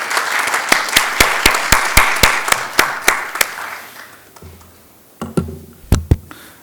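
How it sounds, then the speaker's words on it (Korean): Applause welcomes a speaker at a university seminar, a modest group of hands clapping in a fairly even rhythm that thins out, then a few scattered final claps and some shuffling. "여러분 뜨거운 박수로 환영을 해주시면 좋겠습니다"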